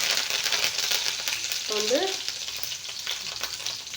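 Mustard seeds and a sprig of fresh curry leaves sputter in hot oil, making a loud, dense, close crackling sizzle that eases slightly toward the end, with a brief voice-like sound partway through.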